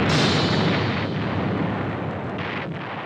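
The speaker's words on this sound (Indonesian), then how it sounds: "Freeman juga meledakkan satu kubah lagi untuk membunuh Marty dan Andy" An explosion destroys a dome in the science-fiction film Silent Running, a heavy, sustained roaring blast that fills the clip and slowly tapers with deep rumbling.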